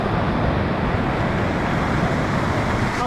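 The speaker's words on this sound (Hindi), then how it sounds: "अब यहाँ पर बारिश होने का नाम नहीं ले रहा है मनाली साइड तो पानी बहुत खतरनाक आ रहा है देखो" Dangerous floodwater rushes near Manali during heavy monsoon rain, a loud, dense, unbroken roar of churning water heard close and alone.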